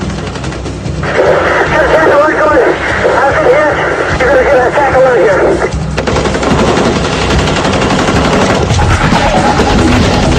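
AK-47 automatic gunfire during a bank robbery shootout in California, heard as loud, sustained bursts of rapid shots with dense reverberant crackle running almost continuously under a chaotic mix of voices.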